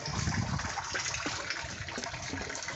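Water pumped into a bait tank holding lava rock and pea gravel, with a steady, close rushing and gushing of flowing water that runs continuously without pause.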